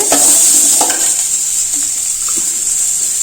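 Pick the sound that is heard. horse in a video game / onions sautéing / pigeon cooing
onions sautéing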